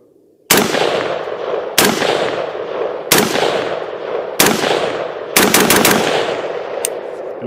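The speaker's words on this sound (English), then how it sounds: "I'm going to leave that H3 buffer in there, though, for sure." An AR-style rifle fitted with an H3 buffer fires five loud, sharp reports spaced roughly a second apart, the last followed by a quick burst of extra shots and a faint metallic ping, each ringing out outdoors.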